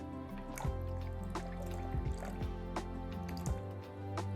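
Freshly squeezed orange juice poured into a cocktail glass for a Martinez-style drink, with dripping, splashing liquid sounds in short bursts and a few clinks, no talking.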